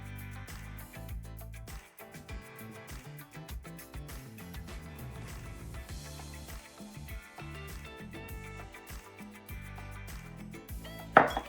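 Coconut flour, cinnamon and salt are tipped into a bowl for buckwheat granola, bringing a run of close clinks and taps of spoons and measuring cups against the bowl, with irregular knocks and a louder clatter at the end.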